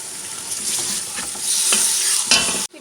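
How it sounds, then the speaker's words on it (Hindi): Mutton frying in a pan with garlic and ginger, a bright continuous sizzle with scraping stirs throughout, fairly loud and close, then cutting off abruptly at the end. "तो अब हम इसमें डाल दें गोश्त ताकि ये भी भुन जाए और इसकी स्मेल ख़त्म हो जाए।"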